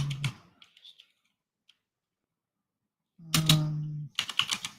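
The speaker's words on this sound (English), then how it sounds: "I can hear your keyboard. Yeah, because it's a mechanical keyboard." Brief bursts of clattering keystrokes on a mechanical computer keyboard, near and crisp, separated by a long silent gap, with a short low hum under the later burst.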